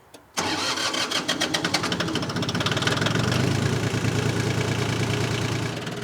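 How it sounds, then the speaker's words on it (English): A John Deere 900HC tractor engine cranks and fires after a moment of quiet, then settles into a loud, steady, knocking diesel idle close by. "Now that the tractor is started,"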